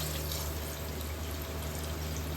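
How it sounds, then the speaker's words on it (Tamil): Four glasses of water pour into a pot of sautéed chicken for biryani, making a steady, unbroken gush and splash, close and constant, with no voices. "4 கிளாஸ் வந்து தண்ணி எடுத்துருக்கேன். அது வந்து ஊற்றிக்கலாம்"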